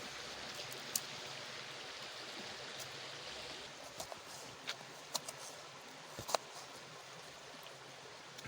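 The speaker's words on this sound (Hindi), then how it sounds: "साथ साथ आपको पानी की भी आवाज़ आ रही होगी, पानी का चश्मा, और ये बल्कि नदी है एक।" A river and a spring run in a quiet outdoor spot, a soft continuous rush of water with a few scattered small clicks and ticks on top.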